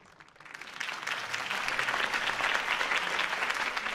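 Crowd applause for Harvey Dent at a campaign rally in the Batman Telltale video game, swelling from quiet to a full, steady roar of clapping from a large crowd.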